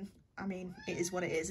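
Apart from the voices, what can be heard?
cat meowing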